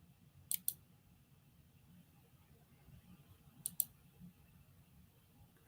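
A computer mouse clicks twice in quick succession, then twice more a few seconds later, sharp and close against a quiet, faint hum.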